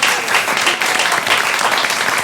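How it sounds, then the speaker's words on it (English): An audience at a live comedy quiz show with a magic theme gives a brief, dense burst of clapping, loud and even throughout with no voices over it. "A round of applause for Sufficiently Advanced."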